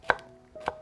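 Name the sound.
knife julienning zucchini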